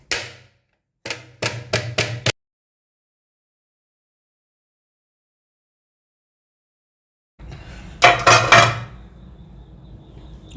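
Food set down onto a plate in a home kitchen: a few short clinks and taps, then a longer burst of scraping and clattering against the dish, close and quiet with silence between.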